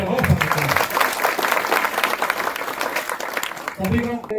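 Loud, dense applause from a crowd at a Haryana election political rally sustains for several seconds, with voices briefly audible at the start and end.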